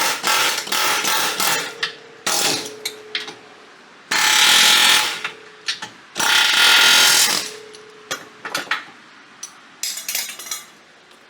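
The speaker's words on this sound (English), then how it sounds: "back to the lot of hammering" Repeated metallic hammer blows on the rear end of a G37/G35/370Z/350Z car ring out in uneven bursts, some rapid and sustained, others single clanks, loud and close with no talking.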